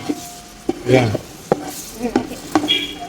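Garlic sizzles in a pan for mutton biryani while a spoon stirs it, with repeated sharp scraping strokes over a close, crackling fry and a brief voice in the background.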